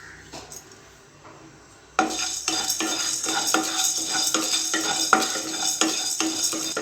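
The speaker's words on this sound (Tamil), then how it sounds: "உளுந்தும் கடலைப்பருப்பும் ஓரளவுக்கு நல்லா கோல்டன் ப்ரௌன் ஆகட்டும், அது வரைக்கும் ஃப்ரை பண்ணிக்குவோம்" Urad dal and chana dal frying in oil with pepper and cumin for curry leaf kuzhambu. A quiet stretch gives way to loud sizzling with repeated scraping and stirring clinks of a spoon against the pan.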